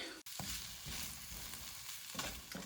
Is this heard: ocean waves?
no